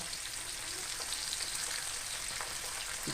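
Sardines frying in a pan produce a steady, dense sizzle and crackle of hot oil, continuous and close, with no talking.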